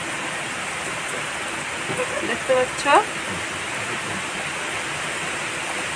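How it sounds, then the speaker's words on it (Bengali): Heavy rain pours steadily outside a house at night during a storm, a loud continuous wash of falling water, while a person speaks briefly over it partway through. "কিন্তু ভালোই বৃষ্টি হচ্ছে"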